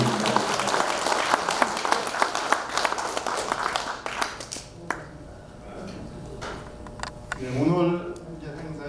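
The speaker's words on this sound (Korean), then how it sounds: "큰 박수로 한번 감사드립니다" Dense applause from a crowd at an outdoor ceremony in Gwanghwamun Square, Seoul, for about four seconds, then it thins to scattered claps as a voice begins speaking over the fading noise.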